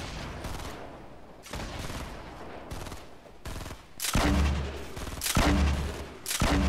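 Gunfire in the Fortnite video game, with repeated bursts of shots that grow louder and heavier toward the end and come in quick volleys with short gaps between them.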